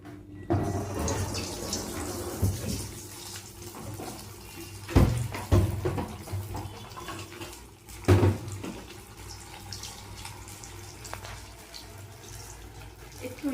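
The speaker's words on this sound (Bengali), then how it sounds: "তেলটা গরম হয়ে গেছে, এখন আমি এগুলো দিয়ে দিই।" Soybean cutlets sizzle in hot oil as they go into the pan. A steady hiss runs throughout, broken by sharper splattering bursts.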